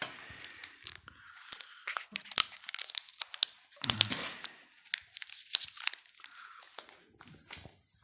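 Crinkling plastic Milka chocolate bar wrapper being bitten and torn open by mouth, a dense run of close crackles, rips and chewing-like crunches across several seconds, heard alone without talk.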